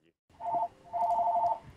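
A telephone rings in a video game: two electronic trilling bursts, a short one then a longer one, clear and moderately loud with a faint background.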